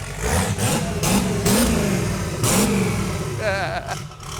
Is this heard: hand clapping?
no